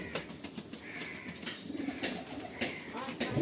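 A breeding pair of Madrasi pigeons, including a female, gives faint, intermittent soft coos and rustles at close range in a quiet loft.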